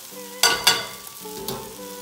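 Strained ramen noodles stirred in a pan over high heat, giving a few sharp scraping clatters over a low steady sizzle and hum, close up and with no voices.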